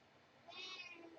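A single short meow from a vocal female house cat, faint and rising then falling, heard alone in a quiet room.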